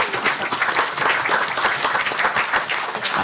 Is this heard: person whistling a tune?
no